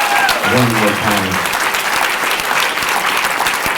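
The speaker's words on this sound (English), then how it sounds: "Give a round of applause for them one more time." Hearty audience applause for performers at a diversity monologue event, loud and dense from the start, with a voice speaking briefly over the clapping near the beginning.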